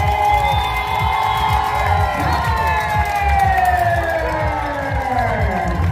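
Marathon crowd at the finish line of the 2024 Brooklyn Half cheers and whoops loudly throughout, with wailing sirens sweeping over the noise and a voice in the mix.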